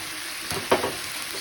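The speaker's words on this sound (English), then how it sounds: "So we'll start cooking those noodles," Noodles stir frying in a hot pan, a soft sizzle with a few quick scraping stirs in the middle, close and fairly quiet.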